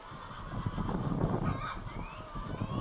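Many chickens cluck and squawk together inside a chicken raising operation, a busy continuous flock chatter with occasional louder calls rising over a low ambient hum.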